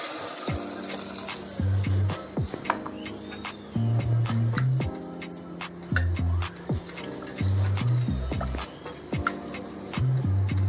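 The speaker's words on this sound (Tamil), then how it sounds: "ஸோ இப்போ வந்து நான் வந்து இதில் ஒரு ஹாஃப் அ கப் ஆஃப் தண்ணியை சேர்க்குறேன்." Half a cup of water is poured into a simmering masala potato gravy, giving short wet splashes and drips over a steady background of music.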